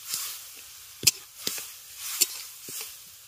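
Ground peanut paste goes into tomato frying in oil for a bottle gourd chutney, bringing soft sizzles with several sharper spoon scrapes and stirring strokes spaced about half a second apart, close and moderately quiet with no speech.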